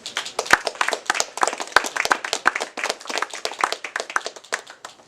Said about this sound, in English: Tap and applause for Connie.